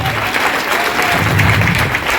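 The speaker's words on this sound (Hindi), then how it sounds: "भारत की नारियों के लिए भी जबरदस्त ताली होनी चाहिए" An audience at a women-focused AWPL business seminar claps steadily, with dense, even applause filling the room from start to finish.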